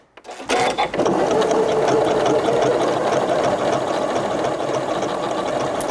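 A Janome S9 sewing machine stitches dense decorative patterns, giving a steady, rapid mechanical hum and needle chatter that runs unbroken for several seconds, close and fairly loud, with no voices.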